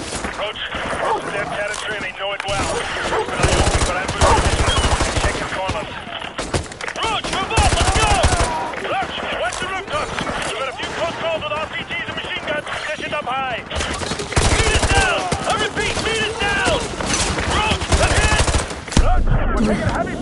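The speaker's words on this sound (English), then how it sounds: "We're taking heavy fire from the militia here." Heavy automatic gunfire from a militia firefight in the Modern Warfare 2 Campaign Remastered video game: dense, sustained bursts and volleys that keep going throughout, with voices talking over the shooting.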